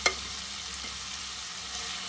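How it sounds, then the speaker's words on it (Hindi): Boiled chicken being stir-fried in masala while a chicken yakhni pulao is cooked, giving a steady soft sizzle with a brief clink of a utensil at the start and no talk. "अब इसके अंदर हम लोग ये जो बॉइल्ड चिकन है वो ऐड कर देंगे"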